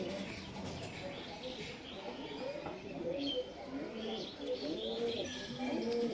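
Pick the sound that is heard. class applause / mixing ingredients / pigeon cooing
pigeon cooing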